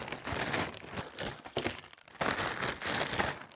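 Plastic packaging of nail supplies bought online is unwrapped up close, giving loud, continuous crinkling and crackling in bursts, with a short lull midway and no talking.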